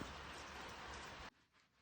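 Steady, close hiss of rain falling on a rainy day in Ukraine, broad and even, then cutting off abruptly to a quiet, muffled background near the end; no voices.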